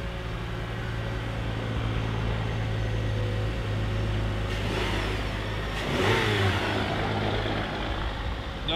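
An eight-cylinder loaner car engine with a deep, diesel-like tone drones steadily up close, then swells in a brief rev before settling back to its rumble.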